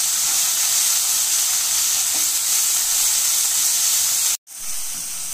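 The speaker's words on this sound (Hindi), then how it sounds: "अब हम इसमें 1 चम्मच नमक, 1 चम्मच मिर्ची पाउडर, आधा चम्मच अमचूर पाउडर डाल के इसे अच्छे से मिक्स कर लेंगे।" Cluster bean bhurji with salt, chilli powder and amchur sizzling steadily in a pan as it is mixed, a loud continuous hiss that cuts off briefly near the end.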